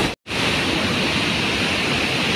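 Water roaring through twelve opened dam gates, a loud, steady broadband rush that stays close and unbroken, with only a brief dropout near the start and no voices.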